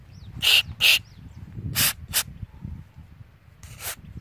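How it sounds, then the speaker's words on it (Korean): Cleaner is sprayed onto a disassembled carburetor in short hissing bursts. Two quick bursts come first, then two more, and a last softer burst after a pause, over a low background rumble. "그래가지고 문제는 여기도 이제 골고루 이렇게 뿌려 주시고요"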